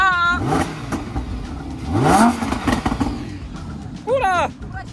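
A Lamborghini Huracan engine revs in sharp rising bursts from the exhaust, loud and close, with excited voices talking and shouting over it.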